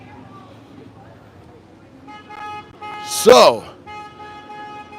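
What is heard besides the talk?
car horns honking at a protest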